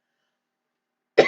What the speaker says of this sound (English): Sorry, COVID cough.